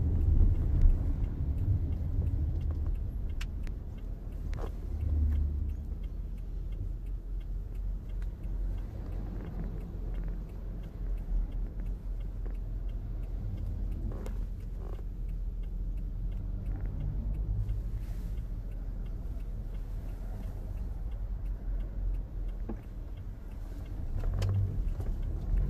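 Car driving on a road during a driving test, heard from inside the cabin: a steady low engine and road rumble throughout, moderately quiet and even, with no one talking.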